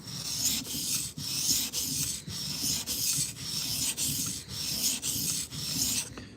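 A knife tip is worked against a sharpening stone in repeated strokes, a gritty rasping scrape at a steady, even rhythm of about two strokes per second, close and clear with no voices.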